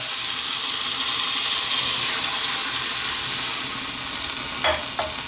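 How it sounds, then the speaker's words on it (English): Steady running water, just under a pint, pours into a pot of browned beef for curry, a continuous broadband rush with a couple of light clinks near the end. "What we're going to do now is add water."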